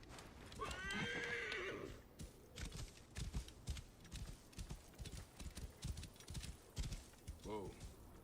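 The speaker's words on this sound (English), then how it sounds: "Get our horse back." A video-game horse whinnies loudly once, then its hooves clip-clop in a steady trot, with a second short whinny near the end while a player talks over it.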